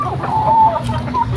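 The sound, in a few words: chickens of various breeds at a poultry farm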